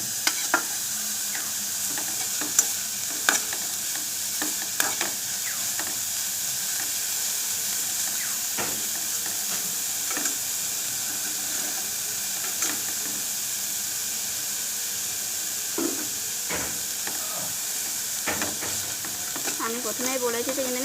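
Chopped carrots and beans sizzle steadily in a hot pan while a spatula stirs them, with scattered scraping knocks over a continuous frying hiss, close and fairly loud.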